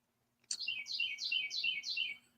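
A bird sings a clear, bright phrase of five quick repeated descending whistles, close and fairly loud against near silence.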